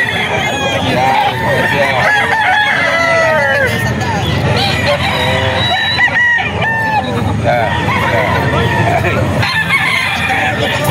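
A young SBR stag gamefowl crows repeatedly and clucks, loud and close, at a breeder farm in Bocaue, with other roosters and a murmur of voices in the background.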